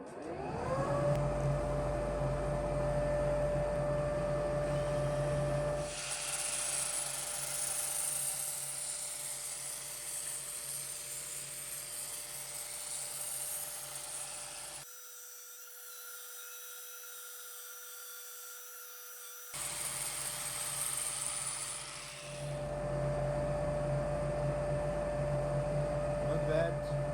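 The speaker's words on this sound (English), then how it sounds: "Sanding time." A wooden ball for a stair railing being sanded with a power sander, a steady loud whine that runs continuously, dips quieter partway through, then returns at full strength near the end, with no talking.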